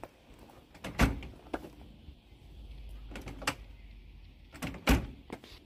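Mosquito screen door on a caravan being operated, with a few sharp clicks and sliding knocks, close by and fairly quiet, with gaps of near silence between them.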